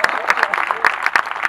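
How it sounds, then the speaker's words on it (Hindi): An audience at a Hindi comedy poetry event claps together in a dense, steady patter of applause, fairly close and lively, with some crowd voices blended underneath. "समझ में आ गई तो ताली बजा दीजिए एक बार"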